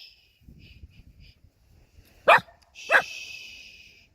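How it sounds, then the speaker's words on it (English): A neighbour's dog gives two sharp, loud barks a little more than half a second apart, with a softer whimper trailing after, over faint background noise. "That's Next Door's dog barking away."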